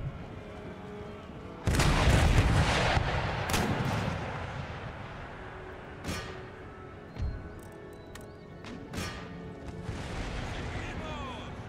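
Artillery and musket fire in an Empire: Total War battle: a heavy burst of gunfire and booms opens, followed by scattered separate shots and distant rumble over a continuous battle din, with speech running over it.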